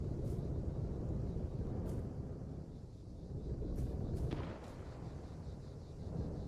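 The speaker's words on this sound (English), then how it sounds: "It's a pack gun firing at him." A PAK anti-tank gun fires in the video game Arma 3, heavy booms rolling over a dense, rumbling battlefield backdrop, with a few sharper cracks standing out amid the low roar.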